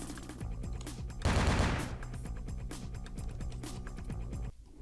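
Gunfire in the vampire game Vampire: The Masquerade – Bloodlines: a dense, loud burst of shots around the second mark, with repeated sharp reports continuing over game music and ambience before fading near the end.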